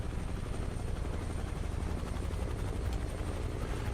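A Huey helicopter in Microsoft Flight Simulator 2020, a steady, loud rotor thump and engine drone that holds evenly throughout with no talk.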